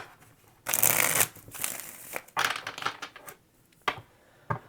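Tarot cards being shuffled in several quick riffling bursts, close and fairly loud, followed by a couple of light taps as the deck settles.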